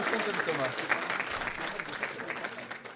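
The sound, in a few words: audience applause at an awards ceremony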